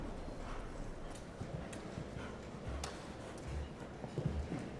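Horse hooves thud softly and irregularly on the footing of a show jumping arena during a competition round, fairly faint and distant with no clear talk.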